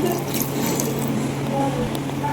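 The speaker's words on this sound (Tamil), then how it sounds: "தண்ணியோட அளவு வந்து நம்ம கறி முங்குற அளவுக்கு இருந்தால் போதும்" Water pours steadily into a cooking pot for goat trotter soup, a continuous close splashing and trickling with no words spoken.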